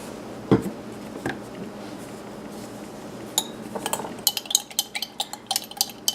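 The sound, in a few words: stirring a DIY vitamin C serum mixture in a container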